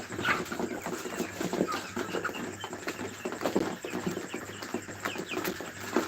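Chickens leaving the coop in the evening make soft clucks and scattered bird calls, with light pattering and rustling at close range and no talk.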